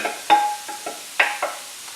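Cauliflower rice is stirred in a hot pan on the stove, with several distinct scraping knocks from the utensil against the pan over a soft, low sizzle.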